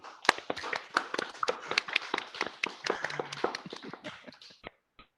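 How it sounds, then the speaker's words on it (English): A small group applauds at a school board meeting, giving sparse, uneven claps nearby that build briefly and then trail off into silence. "so let's clap."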